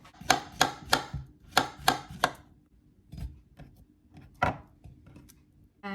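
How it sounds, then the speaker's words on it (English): A knife chops a small banana into little pieces on a board, giving a quick run of crisp, close taps followed by a few slower, scattered cuts. "I'm actually going to cut this into little pieces"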